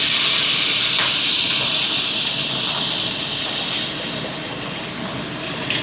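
Tamarind water hits a hot pan of toasted spices, giving a loud, steady steamy hiss that slowly fades, with no talking.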